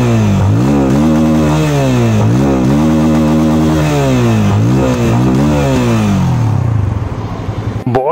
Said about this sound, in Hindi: And now let's go towards the test ride of the bike.